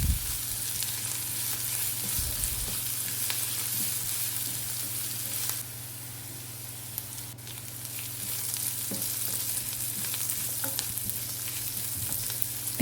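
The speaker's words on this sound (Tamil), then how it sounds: "வெங்காயம் ஒரு 2 நிமிஷம் பக்கம் நல்லா கலர் மாதிரி வர வரைக்கும் வதக்கி விட்டுக்கோங்க." Onions sautéing in a pan for masala egg scramble, a soft continuous sizzle with occasional stirring scrapes, close and steady, briefly quieter partway through before resuming.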